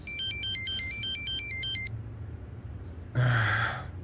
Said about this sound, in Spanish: Llamada entrante de Timur.